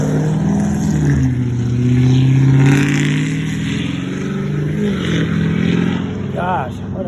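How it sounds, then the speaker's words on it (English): A vehicle driving past on a road near a snowy park, its engine revving in a loud, rising then falling roar over several seconds while a person talks over it. "what an awful vehicle that is"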